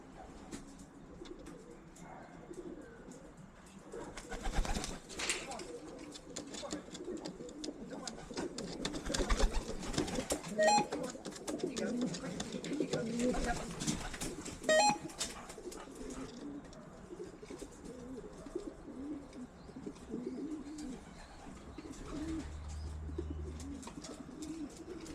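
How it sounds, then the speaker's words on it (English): Racing pigeons coo softly at a loft during the 2025 race season, low throaty calls recurring amid outdoor background noise and occasional bumps. "those 2 pigeons just come out of nowhere"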